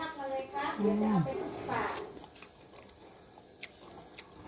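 Crunchy chewing of fermented pickled food eaten with fresh chilies: a few faint, close bites and crunches that follow a stretch of talking.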